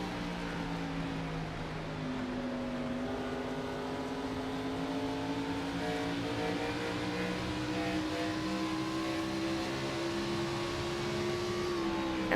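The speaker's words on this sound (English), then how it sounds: "and again, Tyler Hampton, he's going back and forth not only through, potentially, the revs, but even through the gears" A race car engine in a racing video game drones steadily at high revs, its pitch slowly rising and easing in smooth sweeps, with no talking.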